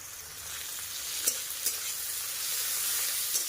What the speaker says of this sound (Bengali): পেঁয়াজ আর টমেটোটাকে খুব ভালোভাবে ভাজা করে নেব